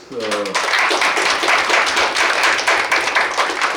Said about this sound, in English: Why don't you give her a big applause?